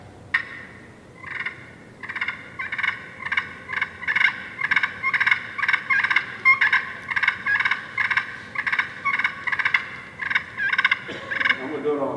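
Rapid, excited turkey gobbles and cackles imitate fighting birds, made with a mouth call and flapped wings, a loud, rhythmic series of bursts close to the listener.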